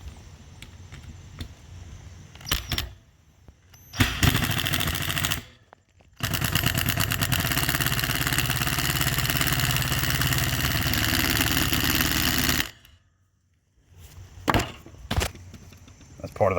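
An impact driver forces a self-drilling screw into a fan build, making a loud, close, rapid hammering rattle that runs for several seconds after brief shorter bursts, then cuts off.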